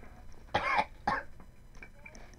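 A sick person coughs twice in quick succession, loud and close, followed by a few faint throat sounds in an otherwise quiet room.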